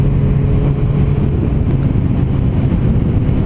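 A Suzuki GSX-R 1000 sportbike fitted with a Yoshimura Trioval exhaust gives a loud, steady, deep engine rumble that stays close and constant throughout, with some wind buffeting and no voices.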